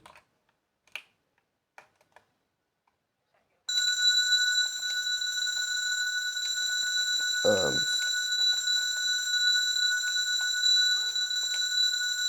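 A Minecraft Bedrock Edition note.chime sound, triggered by a command block, starts after a few quiet keyboard clicks and rings on as steady, bright, overlapping bell-like tones, with a brief low sweep partway through.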